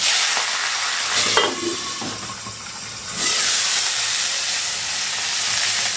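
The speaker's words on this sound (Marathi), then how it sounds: "पर्यंत आपण फोडणी तयार करून घेऊया. आवश्यक तेवढं तेल आपण घातलेलं आहे. मोहरी यात घालायची आहे" Hot oil crackles and hisses as mustard seeds, a dried red chili and green chilies go into a tempering for rice rava upma, a loud, steady sizzle that rises again partway through, with no talk.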